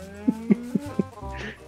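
A cow in a video game lets out a low, drawn-out moo, preceded by a few soft regular thumps or steps, close and clear with no talking over it.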